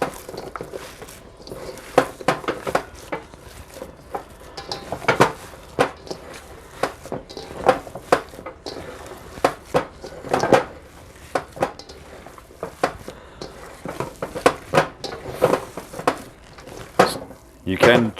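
Hands kneading a raw meatloaf mixture with bacon in a kitchen, fold-and-push motions making soft wet squelches and irregular thumps against a bowl, repeated steadily at close range under intermittent talking.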